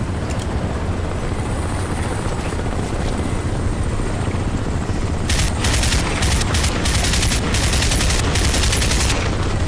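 A helicopter flies overhead in the video game Crysis, its engine and rotors making a constant loud drone. In the second half, rapid bursts of gunfire cut in and out on top of it.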